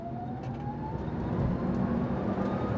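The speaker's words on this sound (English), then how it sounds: "And that motor sound, that's everything." The electric motor of a 2024 Aptera solar-powered prototype car gives a thin whine that slowly rises in pitch over a soft road rumble while driving, fairly quiet and steady.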